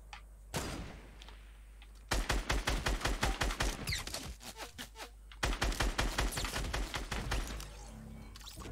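Automatic gunfire in the video game Fortnite: two long bursts of rapid, evenly spaced shots, loud and close, separated by a brief quieter gap, with a single shot just before.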